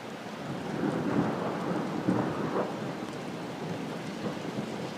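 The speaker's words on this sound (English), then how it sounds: "we are currently getting thunder" Thunder rumbles low and rolling through a New York City thunderstorm, with steady rain falling on surfaces throughout and a couple of swelling peaks of the rumble.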